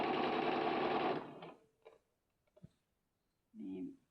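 A sewing machine stitches a trouser hem in one loud, steady burst lasting about a second, then stops; a few soft clicks and handling sounds follow, and a short voice comes in at the end.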